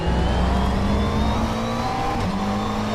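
A race car engine in the rFactor 2 sim racing game screams at high revs, loud and steady throughout, with no pause in the drone.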